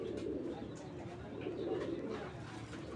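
A large male racing pigeon coos in low, steady murmurs close by, with a continuous soft background hum and no clear talk.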